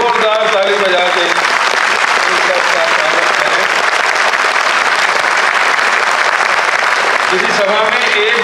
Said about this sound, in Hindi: मैं आप सबसे गुजारिश करूँगा जोरदार ताली बजा के